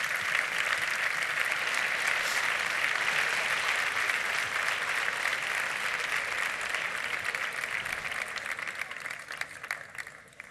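Sustained audience applause at a night-time town festival event (queen and court coronation and opening speech, Cehegín 2013), dense continuous clapping from a large crowd that holds steady then begins to thin out toward the end.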